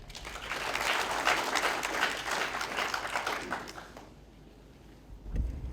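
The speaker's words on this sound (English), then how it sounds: "Let's give the DVC a better clap." An audience at a Zetech University public lecture claps for about four seconds, a dense, fairly loud burst of applause that tapers off, followed by a quieter room and a dull thump.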